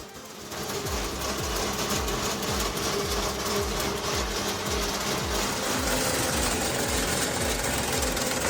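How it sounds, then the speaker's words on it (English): A homemade wood chipper's engine runs steadily nearby, a loud mechanical drone with rapid repeating knocking pulses after a brief start. "A DIY wood chipper is your ultimate sidekick for handling yard waste."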